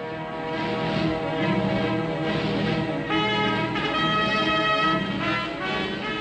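Light reconnaissance propeller airplanes drone steadily overhead, a loud buzzing engine tone that swells and shifts in pitch as they pass, with no one speaking.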